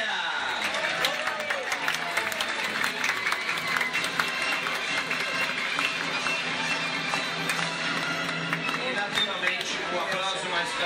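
An audience aboard the MSC Preziosa cruise ship claps for the restaurant staff, a steady dense patter of applause running throughout with voices mixed in.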